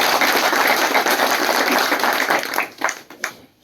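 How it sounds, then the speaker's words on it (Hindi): Seminar audience applauding a presenter, dense sustained clapping that fills the room, then thinning out into a few scattered last claps near the end. "सारी जानकारी सर के लिए ताली बजा दीजिए।"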